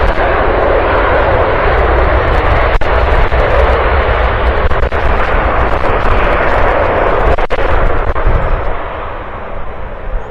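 A passenger airliner landing at East Midlands Airport gives a loud, steady broadband jet roar that fills the whole stretch without let-up, close and dominant with no talk over it.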